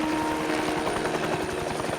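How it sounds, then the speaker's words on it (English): A helicopter landing outside a hotel in the 007 Bloodstone video game, heard as a steady, loud, close rotor chop with a fast rhythmic thumping and a constant whine over it. "That's why the helicopter is landing outside your hotel."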